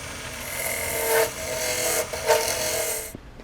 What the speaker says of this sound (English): I've got about another ½ inch or so to turn out of that bottom